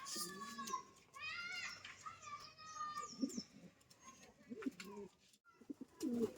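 Pigeons in a coop kept with young birds, soft repeated cooing mixed with chirpy calls, fairly close, with faint voices in the background.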